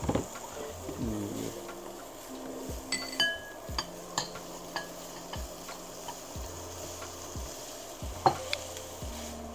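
Smoked sausage frying with cauliflower rice, a low steady sizzle broken by repeated light clinks and taps of a utensil against the pan, with no talking.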